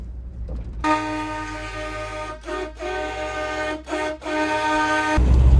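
A car horn blares in long, loud, steady blasts, cut by two brief gaps partway through, with no voices over it.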